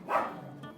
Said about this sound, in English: my dog heard somebody else bark, so now Dior's offended.